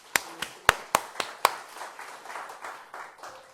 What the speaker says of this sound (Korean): 우리가 어린이들에게 박수 한번 보냅시다